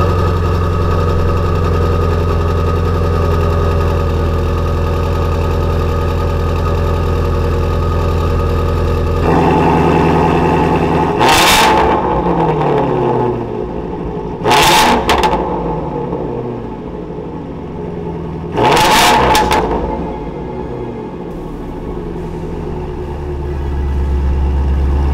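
A 2020 Shelby GT350R Heritage Edition V8 idles with a steady low rumble, then revs sharply three times in short, loud bursts separated by a few seconds of settling idle.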